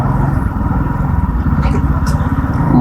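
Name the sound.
motorbike riding on M9 motorway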